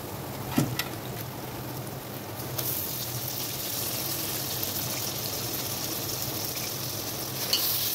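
Mutton head curry with ginger-garlic paste cooks in a pan, a soft, even sizzle running throughout, with an occasional stirring scrape near the start and end.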